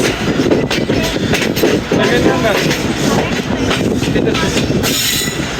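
The Hazara Express rolls past Usman Khattar railway station on its rails, a loud, close, continuous rumble with rhythmic wheel clatter and metallic squeals layered through the whole passage.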